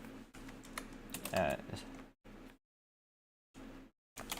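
Fast clicking on a computer keyboard as code is typed for a Minecraft clone built in Bevy, close, dense keystrokes in bursts separated by silent gaps, with faint speech mixed in.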